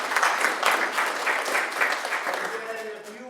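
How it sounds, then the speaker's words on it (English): An audience applauds service members in a room at a Rotary gathering, a dense, even wash of clapping that holds steady for a few seconds, then thins as a voice begins to speak over it. "Can we give them a round of applause?"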